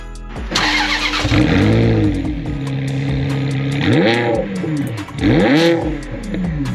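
A Ferrari sports car engine revs loudly several times, each rev rising and falling in pitch, over a steady rumbling idle.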